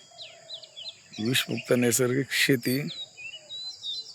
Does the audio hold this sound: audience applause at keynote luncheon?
no